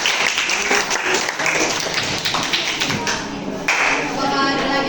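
A classroom of students claps after a presentation in a biology lesson, a dense, steady burst of close applause with a few sharper taps standing out, while a voice can be heard partly beneath it.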